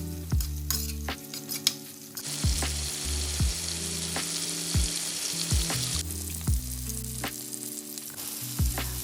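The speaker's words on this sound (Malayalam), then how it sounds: "അതിലേക്ക് കറിവേപ്പില ഇട്ടതിന് ശേഷം മസാല പുരട്ടി വെച്ചിരിക്കുന്ന മീൻ ഓരോന്നായിട്ട് ഇട്ട് കൊടുക്കാം" Sole fish pieces coated in masala fry in coconut oil with curry leaves, a loud steady sizzle that surges as pieces drop into the pan, with repeated scraping and clinks of a utensil.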